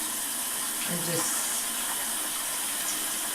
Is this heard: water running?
yes